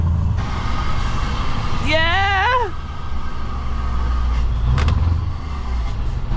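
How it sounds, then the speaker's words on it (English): A deep, throaty straight-piped V8 truck exhaust rumbles steadily nearby, with a brief excited shout over it. "Let's get some exhaust on."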